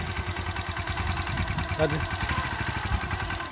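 A manual-clutch motorcycle engine idles with a steady, throbbing rumble that rises slightly in places, while a person speaks briefly over it.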